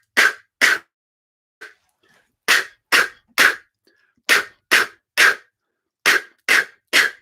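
A voice imitating a drum rim shot, the crack of a stick hitting the metal rim, beatboxed as a series of sharp, bright clicks in short, uneven groups with gaps between.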